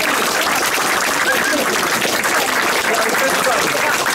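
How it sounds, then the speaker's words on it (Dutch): Applause at a Dutch ceremony presenting a royal honour to a man in Lieshout, a dense, steady wash of many hands clapping for the full length, loud and close, with speech faintly mixed in. "Applaus voor Maria."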